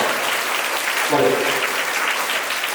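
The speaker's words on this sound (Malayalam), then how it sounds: "ഇത് ചോദിക്കാത്തൊരു ക്ലാപ്പ് വന്നോളൂ." Applause from a school audience at an Independence Day celebration, dense steady clapping from many hands filling the whole stretch at moderate loudness, with a brief voice surfacing in the middle.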